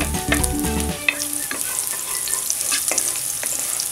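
Garlic sautéing in hot cooking oil for chicken kaldereta, a steady close crackling sizzle with stirring scrapes and a brief clatter near the start, no talk.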